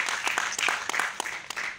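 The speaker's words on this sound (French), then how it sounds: "vous applaudissez un peu pour moi" A small audience at a slam and stand-up show applauds in a brief burst, dense scattered clapping at moderate volume with a few sharper claps.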